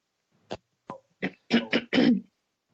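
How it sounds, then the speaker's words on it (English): A person clears their throat in a run of about six short, rough bursts that grow longer and heavier toward the end, close and alone in a quiet room. "You've had time to clear your throat."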